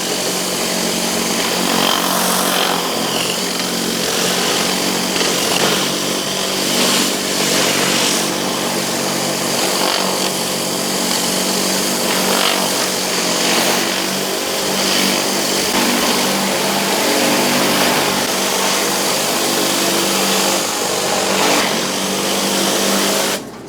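A hot-water pressure washer driving a surface cleaner runs alongside a generator, giving a steady, loud, broadband engine drone with a constant hiss that barely changes over time, with no voices.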